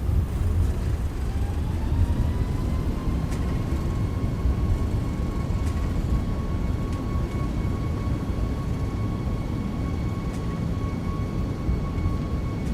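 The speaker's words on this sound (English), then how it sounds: "And there's the touchdown reversers." Airliner thrust reversers roaring after touchdown on a short runway in a flight simulator, a loud steady broadband rumble with a faint high whine, continuous throughout.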